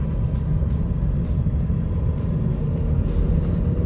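A Nissan Qashqai driving smoothly through town, heard from inside as a constant low road-and-engine hum with faint periodic whooshes over it.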